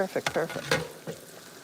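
Soft asparagus sautéing and being stirred in a pan, a faint sizzle broken by a few quick scraping stirs close by.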